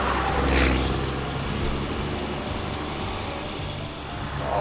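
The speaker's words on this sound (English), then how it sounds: "Oh my God. It's working. I hear the turbos." The Roadkill ramp truck's turbocharged engine runs on, a steady rumbling drone with whooshing noise, heard without its hood.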